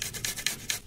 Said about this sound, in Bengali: পেঁয়াজটা ঘষে নিচ্ছি, এইভাবে করে সব পেঁয়াজ কটা ঘষে নেব